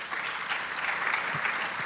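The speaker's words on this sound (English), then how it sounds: "So if you could just give them all one more round of applause." Audience applause at a medical education panel session, steady dense clapping throughout, fairly close and sustained without talk.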